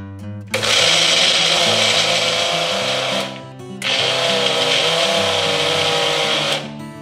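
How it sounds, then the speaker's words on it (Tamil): A kitchen mixer grinder whirs loudly, grinding sesame seeds, jaggery and rice flour for sweet sesame balls, in two bursts separated by a short pause, each with a droning motor whine and gritty rattle. "அதையும் எடுத்து ஒன்னா போட்டு திருப்பியும் அரைக்க போறோம்."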